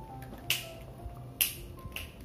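Three crisp finger snaps, spaced about a second apart, captured close and clear by a condenser microphone in a quiet room during a mic test, each a sharp isolated click over faint background hiss.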